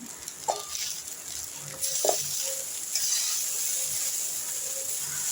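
Onion, cashews and raisins fry in a pan for a chira pulao with egg. A steady hiss of sizzling runs throughout, broken by occasional scraping and clinks from stirring.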